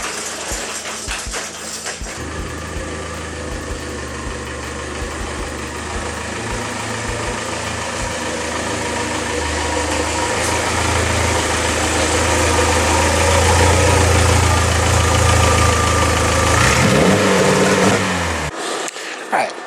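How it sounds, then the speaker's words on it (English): A 2.0-litre VW MK4 Jetta engine idles while warming up outdoors, then its revs rise and hold in a loud, steady drone before dropping back to idle, with a person talking over it. "We've got the car out here warming up."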